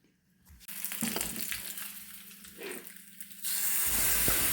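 Spices crackling in hot oil while tempering erissery, a Kerala curry, a steady close sizzle and hiss that rises sharply near the end as more goes into the pan.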